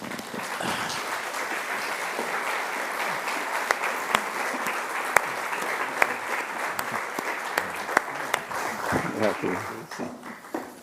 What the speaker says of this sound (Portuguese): Uma salva de palmas, por favor, para Álvaro Magalhães.